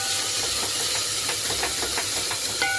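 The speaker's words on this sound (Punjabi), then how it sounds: "ਤੇ ਇਹਨੂੰ ਅਦਰਕ ਨੂੰ ਵੀ ਪਿਆਜ਼ ਦੇ ਨਾਲ ਇੱਕ ਮਿੰਟ ਚੰਗੀ ਤਰ੍ਹਾਂ ਭੁੰਨ ਲੈਣਾ" Onion and ginger fry in a pan for a vegetable dish, giving a loud, steady sizzling hiss with faint scattered crackles throughout.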